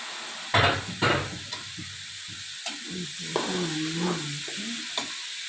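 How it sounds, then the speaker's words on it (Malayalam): Soaked soybeans tip into a hot pan and get stirred, starting with two loud close thumps, then a steady sizzle of frying and scraping stirring strokes. "എന്നിട്ട് കുതിർത്ത് വെച്ചിരിക്കുന്ന സോയാബീൻ ഇതിലേക്ക് ഇടുക."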